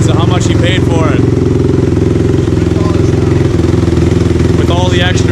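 A Honda TRX450R 450cc race quad runs loud and steady close by, its engine holding a continuous low rumble with slight changes in pitch throughout.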